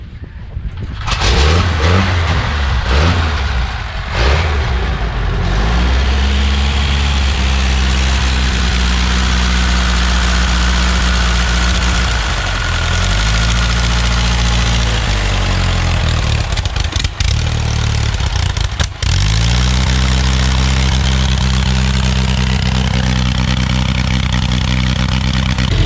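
A 1919 Henderson motorcycle engine at Daytona Bike Week is started and settles into a loud, close, throbbing idle, with a few blips of the throttle rising and falling over the steady run.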